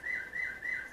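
Faint, quick repeated chirps from birds indoors, a thin rhythmic high call recurring several times in a quiet room with no talk.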